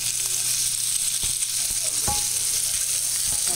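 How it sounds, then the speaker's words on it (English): Sausages fry in a pan for red beans and rice, a steady close sizzle with faint pops and a few utensil clicks throughout. "Now I'm putting my sausage in to fry."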